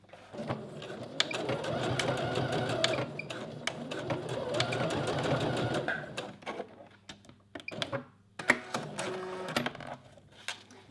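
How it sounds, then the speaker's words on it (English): A domestic sewing machine runs a straight stitch through fabric, a steady fast mechanical whir for about six seconds, then stops into scattered clicks and handling taps. "I'm just going to pinch that in place and then sew it exactly the same with a straight stitch"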